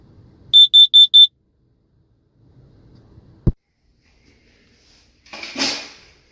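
A carbon monoxide and smoke detector sounds four sharp, loud, evenly spaced alarm beeps, followed by a single click and a brief rustle of handling.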